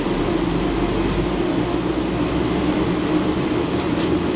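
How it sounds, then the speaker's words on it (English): A blacksmith's forge roars steadily while heating twisted steel cable for the first weld of a cable Damascus knife, a dense continuous rush with a low rumble throughout, no voices. "We're going to put it in the forge now and make the first weld."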